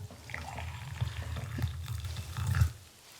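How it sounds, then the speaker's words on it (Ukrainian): Boiling water is poured from a kettle into a glass, a close, gurgling trickle that rises and swells toward the end before stopping. "тут в мене чайник налью"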